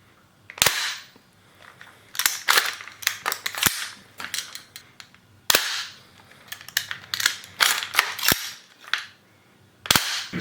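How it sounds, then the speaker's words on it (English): The bolt of a GHK M4 airsoft rifle is repeatedly locked back and released, giving sharp metallic snaps and clacks at irregular intervals with quieter handling rustle between, close and fairly loud. "Just check out that bolt sound, it's so nice."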